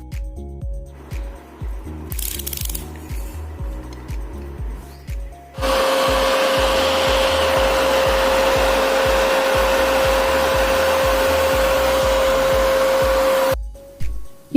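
An Agaro Ace wet and dry vacuum cleaner switches on with a loud, steady whooshing roar and a high whine, running continuously before cutting off, after an earlier stretch of rhythmic rubbing and scraping.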